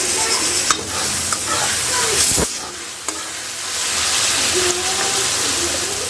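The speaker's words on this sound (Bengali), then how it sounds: "এখন রাইসের জন্য আনাজটাকে আমি ভালো করে ভেজে নিচ্ছি" Vegetables for rice fry loudly in hot oil with a dense, continuous sizzle. A spatula stirs and scrapes against the pan now and then, and one sharp knock cuts through about midway.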